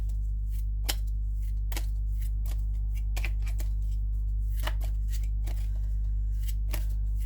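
Tarot cards are shuffled by hand, a run of crisp riffling bursts and soft card slaps repeating at an uneven rhythm close by, over a steady low hum, with no talk.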